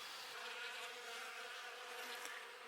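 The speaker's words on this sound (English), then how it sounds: "there's quite a few bees in here" Steady, dense buzzing of many honeybees swarming over honey super frames in an opened hive while robbing honey, close and continuous, with no talk.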